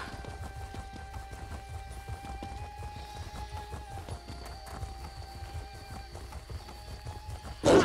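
Steady clip-clop of horse hooves at a walking pace over a low background hum, with a sudden loud burst at the very end, from the video game The Elder Scrolls Online, Summerset.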